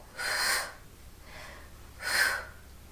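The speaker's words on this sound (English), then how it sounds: "Little short, sharp exhales." Three short, sharp breathy exhales during an ab exercise, evenly spaced about a second apart, close and clear with quiet between them.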